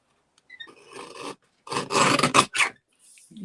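Scissors trimming the end of a piece of paper for a birthday pig craft: two bursts of raspy cutting, a soft short one, then a louder stretch of close snips.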